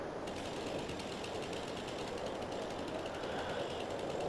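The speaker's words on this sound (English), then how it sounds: "Let's get my chainsaw." A chainsaw cutting trees in a survival video game while a housing area is cleared, giving a steady, loud, rattling mechanical drone with fast ratchet-like pulses that runs unbroken for the whole stretch, with no talking.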